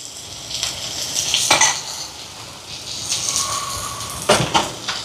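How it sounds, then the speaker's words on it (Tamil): Fenugreek seeds dropped into hot sesame oil in a pan for prawn curry, giving a steady crackling sizzle with brief louder spits and a few utensil scrapes, close and without talk. "இங்கே எண்ணெய் சூடாகிட்டு வெந்தயம் சேர்ப்போம்"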